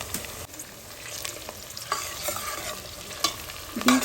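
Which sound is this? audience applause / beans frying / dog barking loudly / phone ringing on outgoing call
beans frying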